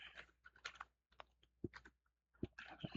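Rapid typing on a computer keyboard, close and clear, in uneven bursts of keystrokes with brief pauses between them.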